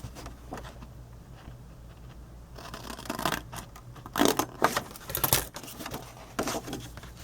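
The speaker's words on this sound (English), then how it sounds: "You're going to cut this bottom whole piece off here" Scissors snip through the bottom piece of a paper Halloween door-hanger treat box: quiet rustling at first, then a run of close, crisp cuts and crinkles in uneven bursts.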